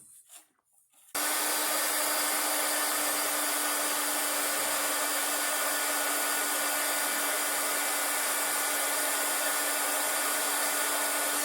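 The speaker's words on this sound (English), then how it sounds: "You want to rotate it and keep your heat source moving." A heat gun strips old epoxy finish from a fiberglass fishing rod blank, roaring as a loud, steady, close blast of hot air that starts abruptly after a brief quiet moment and runs unbroken.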